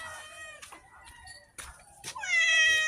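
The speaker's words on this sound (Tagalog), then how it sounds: "ito pusa ko na meows." Several harmonic cat meows, a few short calls followed by a longer, louder drawn-out meow at the end, close and clear with faint background noise.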